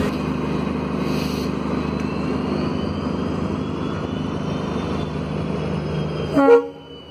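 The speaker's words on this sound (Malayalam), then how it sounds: "Kochuveli Amritsar Superfast Express is expected to arrive on platform number 3" A Kochuveli–Amritsar Superfast Express train rolls into Ernakulam Junction with a steady, continuous rumble of wheels and carriages at the platform, ending in a brief louder clank or squeal near the end.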